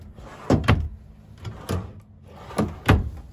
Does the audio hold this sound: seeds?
no